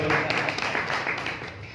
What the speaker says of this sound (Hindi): बहुत अच्छा, इनके लिए भी कृपया ताली बजाइए